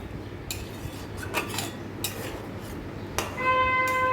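Cashew, tomato and green chili paste stirred in a cooking pan for a vegetarian pointed gourd and yogurt curry, with a few clinking utensil scrapes and taps against the metal over a low sizzle.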